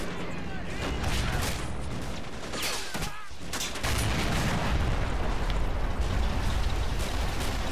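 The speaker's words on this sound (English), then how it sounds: "That's an explosion for no reason." Explosions and gunfire boom through a Men of War Assault Squad 2 tank battle, with a dense run of bursts, a brief lull, then a heavier sustained rumble, mostly alone without talk.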